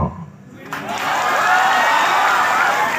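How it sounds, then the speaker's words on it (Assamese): A crowd applauds and cheers at a welcome gathering for new students during a motivational speech, a steady broad roar that swells in after a brief lull and holds loud to the end. "এইয়া এই হাত চাপৰিটো প্ৰমাণ কৰিলে"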